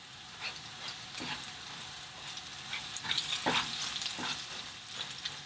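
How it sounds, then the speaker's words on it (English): Risotto rice being stirred and fried in a pan over a very high flame, with a steady sizzle and scraping spoon strokes coming in irregular bursts, close and moderately loud. "So we stir it. We want to do this with very high flame."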